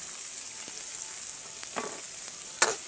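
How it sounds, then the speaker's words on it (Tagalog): Chopped chili sizzles in hot oil in a pan while being cooked for a shrimp-paste bagoong dish, a steady close frying hiss broken by a few scraping stirs, with no talking. "Haluin muna natin sila hanggang sa maging brown."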